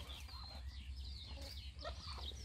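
Chickens clucking and murmuring near ducks at a camp by a house truck, several overlapping soft calls and chirps over a low steady rumble, faint and close with no talk.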